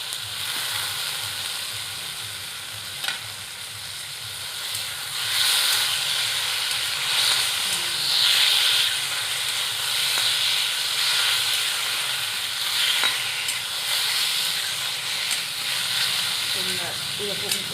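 Spice paste frying on a clay stove before taro stolons go in: a steady, moderately loud hiss and sizzle, swelling at times, with a voice occasionally over it.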